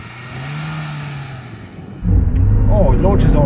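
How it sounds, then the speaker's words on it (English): A 2022 LADA Niva engine holds steady revs at a standing start, then surges into a loud, close rumbling roar as the car launches, with a voice talking over it. "Brake off, got the revs up, find a bite point."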